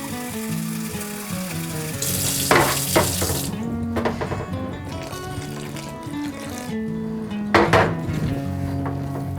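Water splashes into a bowl of mikate dough being stirred by hand for Congolese fried doughnuts, a brief rushing pour followed by soft scraping and mixing noises over steady background music.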